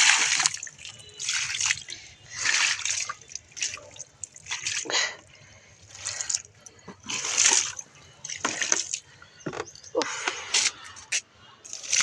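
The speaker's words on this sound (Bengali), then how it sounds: "এই যে দেখুন গাছে বালতি করে জল এনেছি" Water poured from a bucket onto plants splashes and drips in uneven bursts, with sloshing trickles between pours, close by and moderately loud.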